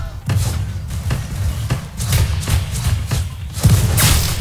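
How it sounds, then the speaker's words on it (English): Gunfire in a Roblox WWI battle simulator game, several heavy dull thumping shots spaced about a second apart over a rumbling battlefield background. "That guy's shooting at me."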